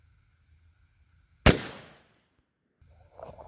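Single close, sharp shot from a Kel-Tec PMR30 pistol firing 35 grain CCI .22 WMR soft point ammunition, a loud crack with a brief decaying tail outdoors, then quiet.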